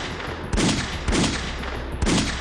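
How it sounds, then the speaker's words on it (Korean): A pistol-shot sound effect evoking the 1909 shooting at Harbin railway station: three sharp, loud gunshot bursts at uneven intervals over a hissy background, with no voices. "1909년 10월 26일 하얼빈 역에서 울린 총성 6발."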